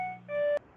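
A faulty door chime gives one short electronic beep, a steady two-tone tone that cuts off abruptly, heard alone and fairly quiet.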